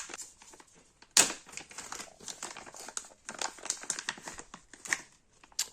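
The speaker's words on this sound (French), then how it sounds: "On a la petite protection qu'on va se déballer tout de suite." A small protective cover for a GoPro Hero 13 being unwrapped, with close, irregular crinkling and rustling of packaging and a sharper crackle near the start.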